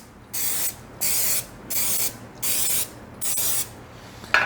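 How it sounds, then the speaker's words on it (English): Cooking spray hisses onto donut pans in a home kitchen, five short even bursts separated by brief pauses, close and clear with no talking. "I've got my donut pans right here. And what I'm going to do is I'm going to spray these."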